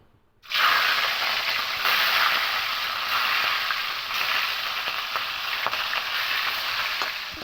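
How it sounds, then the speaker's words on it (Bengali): Fish pieces dropped into hot white oil in a pan burst into a loud, close sizzle that starts abruptly after a moment of quiet, then holds as a dense, crackling hiss with scattered pops. "এবার মাছগুলো দিয়ে দেবো তেলের মধ্যে"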